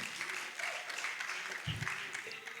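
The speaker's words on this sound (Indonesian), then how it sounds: "Yuk, mana tepuk tangannya?" Clapping from delegates at the opening of a congress in Indonesia, a short burst of many hands under the noise of a hall, with faint talk and a brief low thump partway through.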